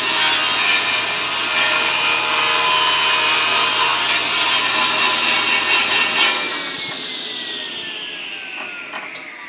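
Power saw running steadily through wood on a homemade miter sled, a loud continuous whine that cuts off and winds down near the end with no talk.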